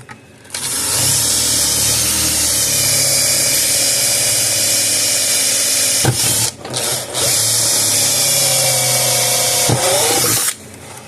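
A power drill bores into the plastic housing of a Gallagher M800 unit, whining loudly and steadily with two brief pauses where the bit stops and restarts.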